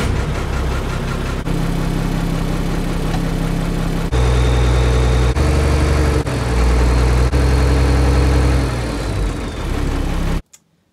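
An abandoned dump truck's diesel engine idles at a steady, loud, low rumble while it builds air pressure, running continuously before cutting off abruptly at the end.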